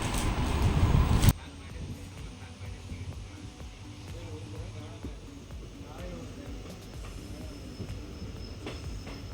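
A train departing Ramnad for Madurai rumbles steadily on the rails after a brief loud burst at the start, with faint squeals and clatter as it rolls along.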